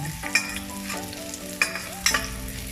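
Garlic frying in a hot pan for pinakbet, with a steady sizzle and a few sharp scraping stirs, close and loud, no voices.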